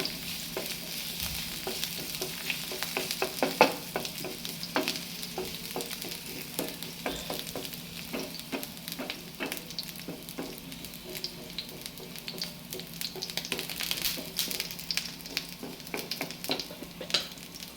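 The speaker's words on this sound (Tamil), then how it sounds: "பூண்டு போட்டு லைட்டாக ப்ரௌன் ஆனால் போதும்" Garlic frying in a pan for a mixed vegetable stir-fry, a continuous close sizzle with scattered sharp crackles and spatula scrapes, no talking.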